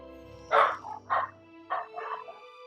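Several dogs bark in the fantasy RPG Pillars of Eternity 2: Deadfire, four close, loud barks in an uneven run over about two seconds, a low drone beneath them.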